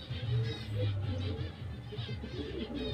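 Pigeons coo in low, soft, repeated throaty calls, several birds overlapping close by in a steady murmur, with faint chirps above.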